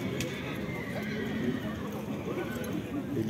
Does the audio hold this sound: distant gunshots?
no